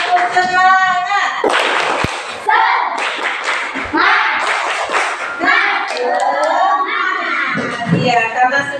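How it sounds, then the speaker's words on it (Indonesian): Classroom of children doing a rhythmic spirit clap, patterned hand claps mixed with shouting and chanting voices, loud and close, with bursts of group vocalizing throughout. "Tepuk semangat."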